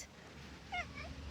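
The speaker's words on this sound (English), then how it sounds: "Duck here has gotten quite famous on our Instagram for his very peculiar meows and his shop antics" A cat gives two short, faint meows in a shop, one quickly after the other, over a quiet background hum.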